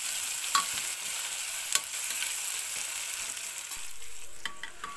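Raw cauliflower and peas go into an onion masala frying in a pan. A bright, hissing sizzle runs steadily, with a few scattered clinks and scrapes from stirring.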